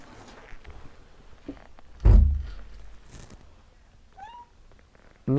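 A house cat meows several times indoors, short rising calls spread across a few seconds, alongside a heavy thump and soft movement sounds, with a final louder meow at the end.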